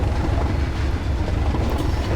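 A vintage British diesel locomotive in Train Sim World 2 pulls off the line at full throttle, a loud, steady low engine rumble with rolling rail noise beneath it.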